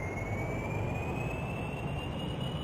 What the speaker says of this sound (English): full throttle, turn the engine on